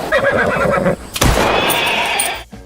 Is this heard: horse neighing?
yes